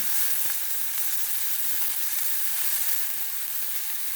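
Meat sears in a hot pan for a Sunday roast, giving a steady, close, loud broadband sizzle that holds evenly throughout with no talking.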